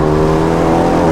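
A Renault Mégane 3 RS Trophy engine on a mountain road gives a loud, steady, droning roar with no break, held for about a second.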